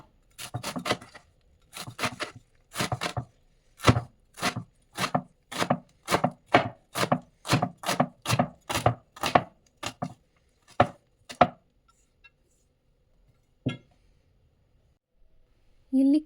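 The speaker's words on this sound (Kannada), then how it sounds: "ನಾನಿಲ್ಲಿ ಸೊಪ್ಪನ್ನು ಸಣ್ಣಗೆ ಹಚ್ಕೋತಾ ಇದ್ದೀನಿ" A knife finely chops leafy greens on a board for a sambar-style dish, with quick rhythmic chops in bursts, close and crisp, tapering off into a few isolated strikes.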